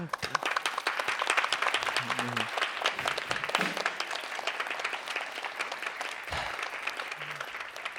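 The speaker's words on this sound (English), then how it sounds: "Big round of applause for Ian there." Wedding guests giving a big round of applause at a reception in DUMBO, New York, steady crowd clapping close by for several seconds, with scattered voices and brief speech under it.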